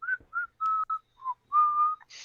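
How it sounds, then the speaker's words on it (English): A person whistles a short, casual tune of about six clear notes, some held longer than others, with brief gaps between them. It is close and alone. "I whistle nonchalantly."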